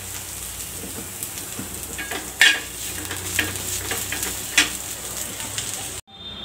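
Onion fries in a pan until browned, a constant crackling sizzle with a few sharp scrapes and clinks from stirring, then the sound cuts off abruptly near the end.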